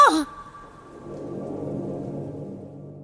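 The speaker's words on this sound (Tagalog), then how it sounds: "malakas ang ulan sa labas na sinasabayan pa ng malalakas na kulog" Steady rain hisses in after a brief sharp sound at the start, a soft, even downpour with no clear thunderclap.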